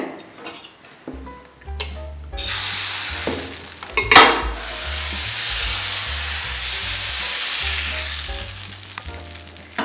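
Egg poured onto a freshly made Kerala appam sets off a sharp sizzle in the hot pan, with a loud burst of frying around the pour and steady crackling after, plus a few clinks of metal on the pan.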